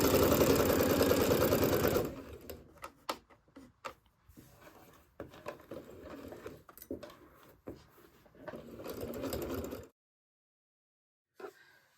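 Sewing machine set to a quarter-inch stitch at length 2.4 running a rail fence quilt block seam, a loud steady whir at first, then stop-start stitching and short bursts before going silent, close by with no talk.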